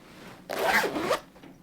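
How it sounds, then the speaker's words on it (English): A zipper on a laptop bag is pulled open in one quick, close, raspy run lasting under a second, with quiet room tone before and after. "There's a zipper,"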